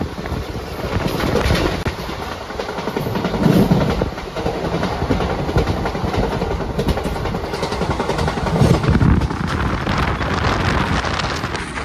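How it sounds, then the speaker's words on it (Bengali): Netaji Express passenger train (12311, Howrah to Kalka) running on tracks near Prayagraj Junction, a continuous loud rumble with rhythmic clickety-clack of wheels and some wind noise, heard from inside the coach. "আমাদের ট্রেন এখন ঢুকছে প্রয়াগরাজ জংশন"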